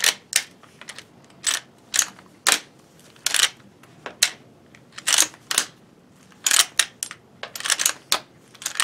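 Shotgun shells are cycled and kicked out of a tube-magazine shotgun, a series of sharp metallic clicks and clacks in irregular bursts, close and fairly crisp with quiet pauses between them.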